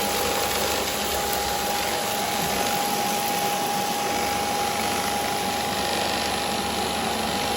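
A loud, steady mechanical whir with a high whine from a Bissell IconPet robot vacuum running at max suction, constant throughout with no talking.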